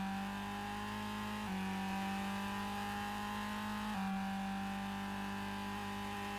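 An F3 race car engine in a driver-in-the-loop simulator holds a steady, loud mid-pitched drone, its pitch stepping down briefly twice as if shifting or lifting, with no talking.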